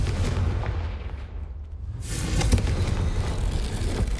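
A Confringo spell in Hogwarts Legacy goes off as a deep booming blast, a sudden low burst that rolls into a loud sustained rumble over a dense game background.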